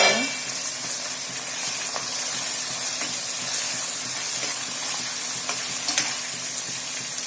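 Garlic frying with masala in hot oil for a cabbage curry, a loud, continuous close sizzle with spitting hiss and a few light clicks of a spoon stirring against the pan.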